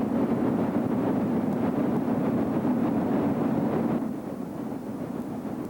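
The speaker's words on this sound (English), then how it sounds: "Number 1191 on a work train near Afton on August 20th," Chesapeake and Ohio steam locomotive number 1191 working a work train near Afton, heard as a steady, loud rumbling roar with wind-like noise throughout, easing slightly toward the end.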